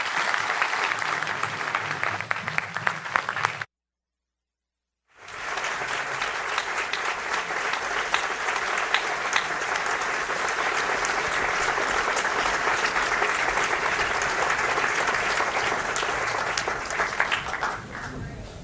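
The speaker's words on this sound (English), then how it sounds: "Let's have another round of applause for Speaker Gingrich." Audience applause for Speaker Newt Gingrich at a speaking event, sustained and steady, with a brief full silence early on before clapping resumes and continues to the end.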